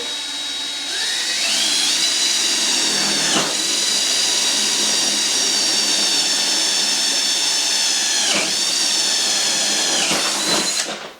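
A power drill whines continuously at high pitch, its tone dipping sharply a few times as the bit bites into aluminum, loud and close.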